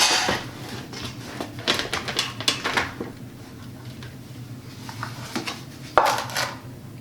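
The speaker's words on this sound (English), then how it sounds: "now I'm going to flip them out and into their tins" Cakes knocked out of a baking pan into tins, giving a string of light clattering metal taps and knocks, several clustered early and a brighter clank near the end, fairly close with no talking.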